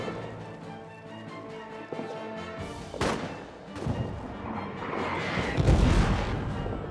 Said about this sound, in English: The artillery on this battle is kicking my ass.